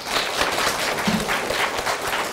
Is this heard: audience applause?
yes